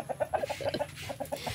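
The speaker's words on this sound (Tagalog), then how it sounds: "ayan may manok" A farmyard chicken clucks in a quick run of short, evenly spaced notes. The calls are close but fairly soft, with no talk over them.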